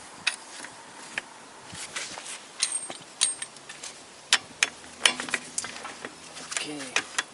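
Metallic clicks, clinks and rattles as bolts are removed from the driveshaft of a Toyota Corolla with a VVT-i engine, irregular close taps and scrapes with a few brief ratchet-like bursts, alone without talk.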